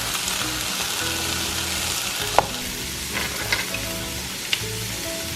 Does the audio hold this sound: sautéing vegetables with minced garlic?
yes